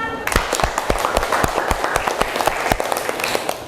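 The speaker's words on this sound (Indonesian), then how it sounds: "tepuk tangan kepada kelompok 2 dan kelompok 4" A classroom of students claps for two student groups, a burst of sharp, fairly close hand claps sustained evenly throughout.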